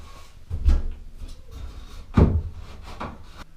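The top piece of a sliding glass shower door is set into place, giving two solid knocks of metal and glass plus a few lighter clacks and scrapes, close and with no talking.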